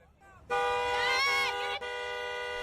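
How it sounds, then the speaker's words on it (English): A car horn honks at law enforcement officers, one loud, close, sustained blast that starts abruptly and briefly breaks just before the end. "if you didn't drive up and start honking your horn on them"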